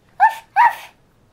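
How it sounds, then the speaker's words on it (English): A dog gives two short, close barks in quick succession, loud and clear against a quiet room. "Yeah, that's what doggy says."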